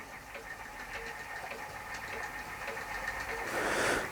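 A small Chinese vertical flywheel Stirling engine runs with a soft, steady, rhythmic mechanical ticking and hum, close and quiet, with a brighter clatter swelling near the end.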